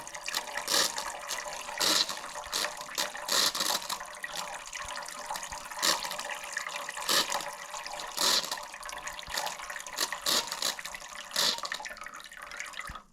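Air and fluid escape in repeated hissing, gurgling spurts while a Hydragas suspension is bled, each burst close and fairly loud, separated by short pauses over a quiet background with no talk.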